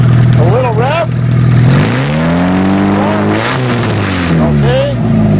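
A 1997 Mazda with a modified exhaust revs loudly, engine pitch sweeping up and down several times close by, with a voice speaking briefly over it.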